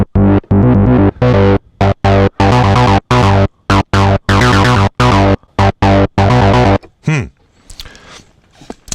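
A loud Novation Bass Station II synthesizer plays choppy, gated chords, its filter swept by a sharktooth LFO so the tone pulses brighter and darker rhythmically, then cuts out to a faint, fizzy tail.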